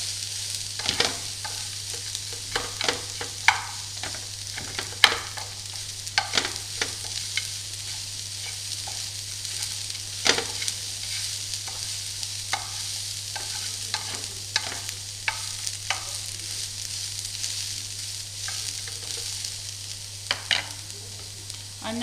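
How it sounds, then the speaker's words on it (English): Meat browns in a pan for lasagne under a steady, soft sizzle, while a utensil scrapes and taps against the pan in frequent short strokes, close by, with a low hum underneath. "Stir in your meat until it's gone brown."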